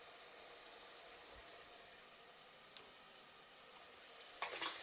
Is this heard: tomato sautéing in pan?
yes